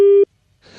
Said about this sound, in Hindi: वो टेलीफोन लाइन कट गई थी मेरे ख्याल से